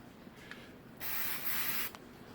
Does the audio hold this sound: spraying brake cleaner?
yes